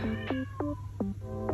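A cat meows four times in quick succession, each call a short rising-then-falling cry, close and clear over a low steady background hum.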